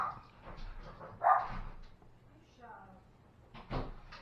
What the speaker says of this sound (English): My dogs went crazy because my daughter got home, so that was really loud and annoying.